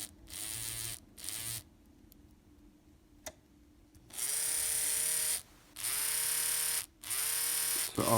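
Small electric motor of an N scale Atlas/Rivarossi 4-6-2 model locomotive being tested on a workbench, a thin whining buzz that runs in repeated bursts with short pauses, close and steady in pitch.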